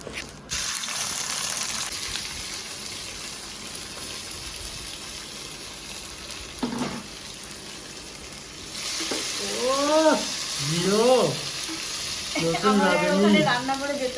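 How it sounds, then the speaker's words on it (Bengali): Soaked cashews and raisins frying in white oil with dried chilli, bay leaf and whole garam masala, a steady close sizzle that swells louder toward the end, where repeated high chirping calls ring out over it. "কাজু কিশমিশ ভিজে রেখেছিলাম তো সেটাও আর কি ভেজে নেব"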